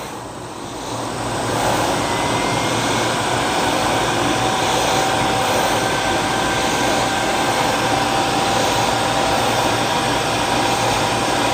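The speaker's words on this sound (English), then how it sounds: "Get our heat gun." A heat gun blows hot air steadily while wiring is worked on, a loud continuous broadband whoosh that builds in during the first couple of seconds and then holds evenly throughout, with no talking.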